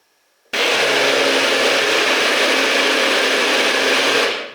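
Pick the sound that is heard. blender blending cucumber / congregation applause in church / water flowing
blender blending cucumber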